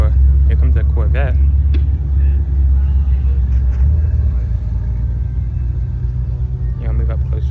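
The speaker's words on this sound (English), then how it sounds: "Here comes a Corvette." Steady low engine rumble from a Chevrolet Corvette rolling into a car show in Robesonia, Pennsylvania, close and continuous beneath background voices and other idling vehicles.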